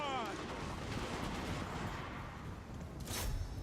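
Empire handgunners in a video game battle fire a ragged volley, a dense crackle of overlapping gunshots under steady battlefield noise, with a sharp louder burst near the end and some voices in the mix.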